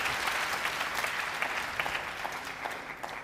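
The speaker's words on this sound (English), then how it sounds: "The supernova and the crowd in Sendai respond." A wrestling crowd in Sendai breaks into sustained applause at a tag team match, a dense, steady clapping that carries through the whole moment.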